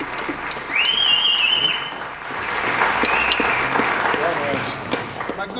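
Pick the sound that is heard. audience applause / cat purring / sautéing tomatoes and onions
audience applause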